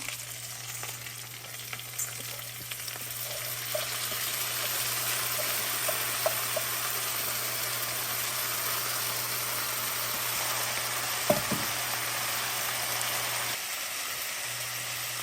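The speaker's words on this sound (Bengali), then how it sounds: "এখন আমি চাউল দিয়ে দিচ্ছি।" Rice being added to a pan with fried onion and garam masala while cooking chicken bhuna khichuri, giving a steady sizzle with occasional stirring scrapes and a constant low hum underneath.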